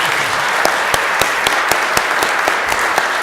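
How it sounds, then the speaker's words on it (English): A symposium audience gives a final round of applause, a loud, dense wash of clapping with sharp individual claps standing out in a fairly regular beat throughout. "just give them a final round of applause"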